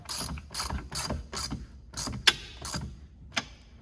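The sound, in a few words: ratchet tightening bolts on Jeep JK door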